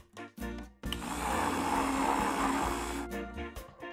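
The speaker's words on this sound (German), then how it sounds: "Zerkleinert einen Biskuitkuchen in einem Mixer." A kitchen blender crushes sponge cake in short bursts: brief pulses first, then a steady whirring grind of about two seconds, and a few final pulses.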